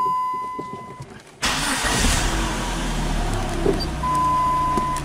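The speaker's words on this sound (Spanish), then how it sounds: "Entonces, vamos a prender el vehículo." A car engine cranks and catches, then settles into a steady idle, loud and close, with no talk over it.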